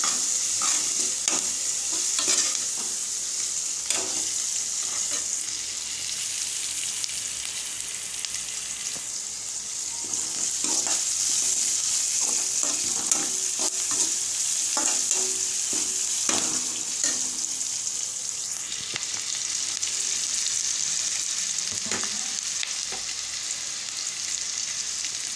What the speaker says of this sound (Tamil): தக்காளி கருவேப்பிலை இது எல்லாத்தையும் சேர்த்து நல்லா வதங்கணும்